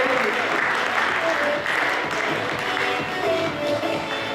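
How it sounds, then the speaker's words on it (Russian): Loud, sustained applause from a hall audience at a youth volunteer forum award ceremony, a thick wash of clapping with some voices mixed in, rolling on without pause for the whole stretch. "громко аплодируем"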